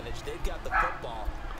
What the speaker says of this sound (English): The dog's barking still in the background.